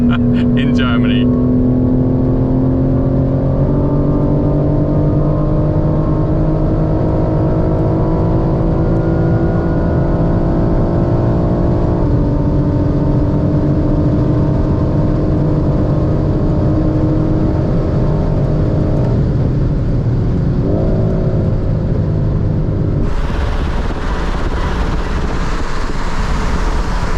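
BMW M4 CSL at about 192 mph on a German road, a loud sustained engine drone and wind roar whose pitch climbs gradually through gear changes, with a burst of hissing wind noise near the end.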